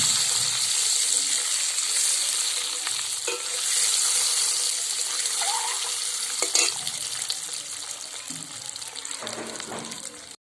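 Eggs browning in a pan for a village-style handi chicken, hissing in a steady, close sizzle for the whole stretch, with faint stirring knocks and a few brief clatters near the end.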